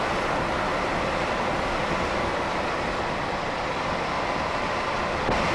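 Class 86 electric locomotive running on the West Coast Main Line between Birmingham and Crewe in Train Sim World 6, a steady, loud broadband rumble and rail roar that continues evenly throughout with no talking.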